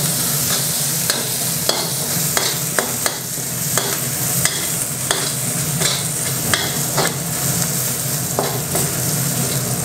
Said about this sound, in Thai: เริ่มจากพริกกระเทียมนะครับนี่ลงไปผัดก่อนเลยมันจะฉุนนิดนึงแต่เราต้องผัดให้เหลือง